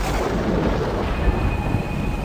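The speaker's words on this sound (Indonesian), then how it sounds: "terdengar geledek sangat keras" Loud thunder rumbles and cracks in a dense, sustained roar with a deep low boom, heard alone at close range for a couple of seconds.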